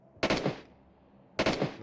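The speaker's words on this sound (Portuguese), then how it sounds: "Mas eu escutei tiro." Two short bursts of automatic gunfire in the mobile battle-royale game PUBG Mobile, each a quick rattling volley of a few shots, spaced about a second apart with quiet between them.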